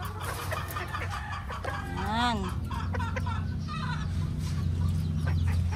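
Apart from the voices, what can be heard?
hens clucking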